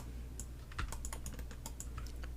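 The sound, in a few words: computer mouse clicking in Maya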